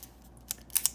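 Refills in a Uni Jetstream 4&1 metal multi-pen swapping with a few sharp, close plastic-and-metal clicks, a single click then a quick pair near the end against quiet.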